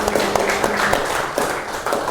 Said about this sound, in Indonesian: Tepuk tangan untuk saudari Yasmin.